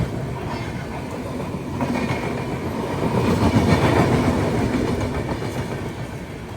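During heavy rain on the Konkan coast, the Sawantwadi–Diva train with Konkan Railway LHB coaches passes close by in a broad, steady roar that swells toward the middle, with rhythmic wheel clatter and faint squeals throughout.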